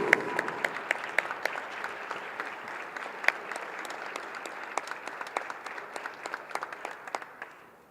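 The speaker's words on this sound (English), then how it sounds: "let's give one big round of applause for our 2021 Harrison County Basketball Phillies seniors" A crowd applauds the 2021 Harrison County Phillies basketball seniors at a senior night game, sustained clapping in a gym with scattered sharp individual claps standing out, steady then tapering off toward the end.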